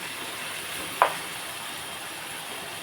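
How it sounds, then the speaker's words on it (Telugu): Tomatoes cook down in a pan for an eggplant and shrimp curry, giving a soft steady sizzle with a single small clink early on, no talk. "ఒక నిమిషం టమాటాలు మగ్గిపోతున్నాయి"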